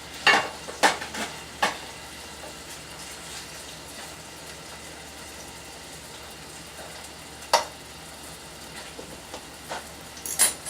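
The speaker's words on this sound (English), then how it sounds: "Saute this really quick, just for maybe like a few seconds." Food sautéing in a pan for beef in tomato sauce, a steady low sizzle broken by a few sharp clanks and scrapes of stirring, with no talk.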